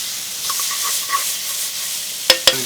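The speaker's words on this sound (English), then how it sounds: "we're going to start with our peppers and our onions. Now we just want to sweat these down." Peppers and onions sweating in canola oil give a steady, close frying hiss, with two sharp metallic utensil clicks near the end.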